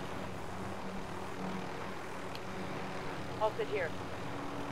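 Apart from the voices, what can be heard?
helicopter flying in Call of Duty Warzone video game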